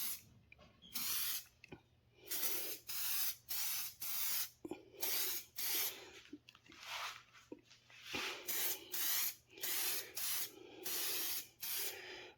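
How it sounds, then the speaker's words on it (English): Polish sprayed from an aerosol can onto a model in a quick series of a dozen or so short, close hissing bursts with small clicks between them, in a quiet room with no talking. "Spray the next one."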